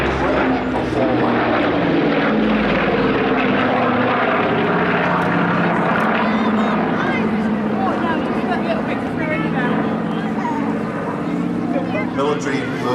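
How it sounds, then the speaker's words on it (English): A Douglas DC-6 piston propeller airliner performs a flying display at an airshow, its loud engine drone rising and fading with the pass as a commentator talks over it. "the DC-6 not generally seen in these sort of flight conditions as an airliner, but an incredible performer"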